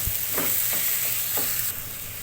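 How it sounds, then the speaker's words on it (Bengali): Raw jackfruit frying in a pan and being stirred until dry: a steady bright sizzle with a few soft scraping stir strokes, close and continuous, no voices. "এটাকে আরও মিনিট পাঁচেকের মতো এভাবে নেড়ে চেড়ে আরও একটু শুকনো শুকনো করে ভেজে নেব"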